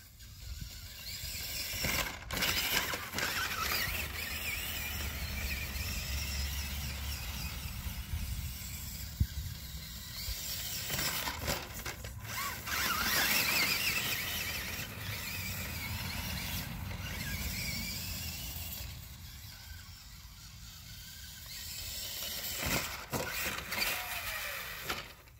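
Tamiya Super Clod Buster RC truck running, with whirring electric motor and gear noise rising and falling over a long stretch, plus mechanical rattles and squeals, close by and fairly loud.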